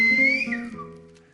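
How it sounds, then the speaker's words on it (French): A clear whistled message in Silbo Gomero, the whistled language of La Gomera, rings out as one sustained, gliding, pitch-bending whistle from a single whistler, fairly loud and alone, fading toward the end. "un message sifflé peut être entendu à une distance qui peut aller jusqu'à 3500 mètres"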